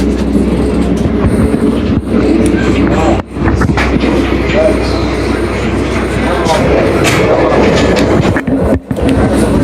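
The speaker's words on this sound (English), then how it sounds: "We are trying Uganda'S train, man." Uganda's passenger train rumbles loudly along the rails near Namanve, a steady close roar inside the carriage with clickety-clack wheel beats and brief dips, voices murmuring underneath.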